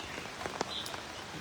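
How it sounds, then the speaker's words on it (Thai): Rain falls on a surface at a temple morning gathering, a soft, steady patter with a few close drops tapping out clearly, and no voices over it. "โอ้ยฝนตกฝนตก"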